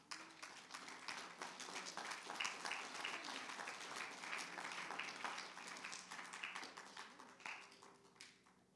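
A church congregation gives sustained applause, a dense continuous patter of many hands clapping, steady throughout and slightly distant, with faint voices mixed in.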